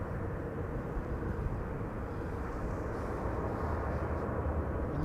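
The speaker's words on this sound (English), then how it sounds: "This is KLM flight 1710, which is arriving from Luxembourg. Embraer 175." KLM Embraer 175 regional jet arriving at Schiphol, heard as a faint, steady low rumble of engine noise at a distance, unchanging for the few seconds with no voices.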